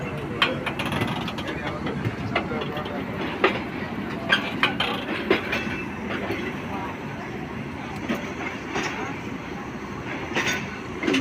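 A passenger train pulls away from a station platform, a steady rumbling rattle of rolling carriages with clanking bursts throughout, heard up close amid crowd noise and voices.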